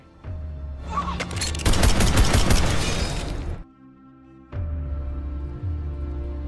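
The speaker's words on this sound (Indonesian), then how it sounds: "Bernie langsung menembak Metoy James dan akhirnya berhasil menyelamatkan Sandra" Bursts of automatic gunfire crack loudly in an action film, a dense volley of shots with shattering impacts over a low music bed, then a brief lull before the score resumes.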